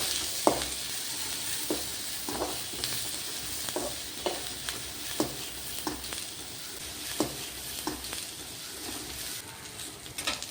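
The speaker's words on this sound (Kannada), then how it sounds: "ಸ್ವಲ್ಪ ಬೆಳ್ಳುಳ್ಳಿ ಹಾಕಿ ಫ್ರೈ ಮಾಡಿ" A piece of ginger and some garlic frying in a pan for street-style masala puri, a constant hissing sizzle with regular spoon-stirring knocks and scrapes repeating about once a second.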